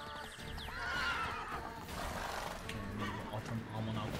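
A horse whinnies in The Witcher 3, rising loud and high near the start and trailing off, set against game ambience, with someone talking over much of it.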